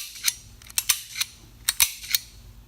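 Pistol-type flint striker for an acetylene torch snapping out sharp metallic clicks, about eight close, crisp strikes in irregular pairs and singles with nothing else around.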